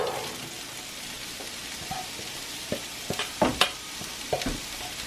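Onions sauté in a pan for Jamaican curry goat, with a gentle constant sizzle and crackle broken by a few light spatula taps and scrapes toward the end.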